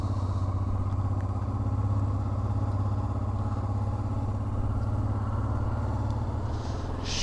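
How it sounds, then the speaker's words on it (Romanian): Motorcycles idle and run steadily outside a mountain cabin in Norway, a continuous loud low engine rumble with no talk. "Uite aici motocicliștii la cabană"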